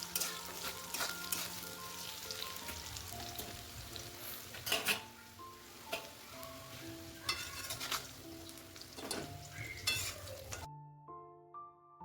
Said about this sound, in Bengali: সেই হালকা লাল হওয়া পর্যন্ত ভেজে নেব। এটাতে আমাদের 5-7 মিনিট সময় লাগবে